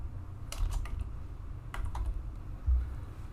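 Quick bursts of keystrokes on a computer keyboard as a short name is typed into a spreadsheet's name box, two clusters of clicks separated by a pause, fairly soft and close, with low room hum and no talking.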